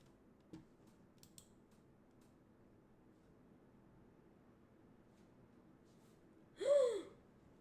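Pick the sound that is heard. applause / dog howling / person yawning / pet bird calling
person yawning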